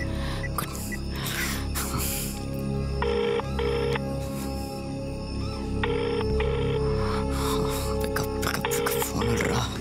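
A telephone rings for an incoming call inside a Tamil film scene, with short repeated bursts of electronic ringing that sit over steady background music and ambience, fairly prominent but not alone.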